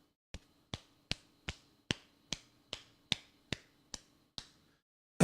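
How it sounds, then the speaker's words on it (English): A hand pats a back in about eleven crisp, evenly spaced slaps, close and fairly light, over a quiet background, ending in a louder final thump. "this is the sound of me patting myself on the back."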